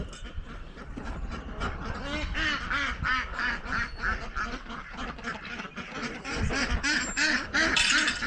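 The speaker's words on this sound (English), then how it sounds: "walk amongst the chickens and the ducks" Ducks and geese in a farm pen quack and honk in a dense, continuous chorus of overlapping calls, loud and close, with no voices over them.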